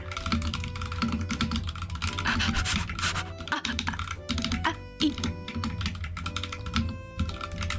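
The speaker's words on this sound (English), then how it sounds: "I don't even know what I'm typing about." Steady computer keyboard typing with dense, continuous key clicks at close range, layered over constant background music throughout.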